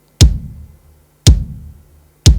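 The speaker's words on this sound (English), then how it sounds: "The next one is the bass drum." Three deep, thumping electronic kick drum hits at an even pace, each a punchy low boom that fades quickly.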